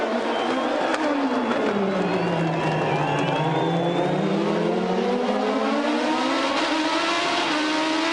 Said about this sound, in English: Ryan Briscoe is trying to fight off the challenge of Scott Dixon on the final lap of the race